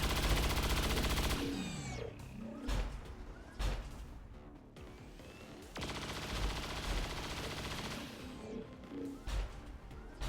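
Gunshots from XCOM 2 crack out in heavy volleys, loud and close, with sharp bursts separated by brief lulls and mechanical clanks.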